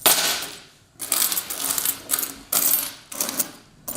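Old Indian coins, including a 1996 ten-paise piece and 50- and 25-paise coins, jingle and clink as they are handled and dropped, with four or five bright metallic bursts separated by short pauses and no voices.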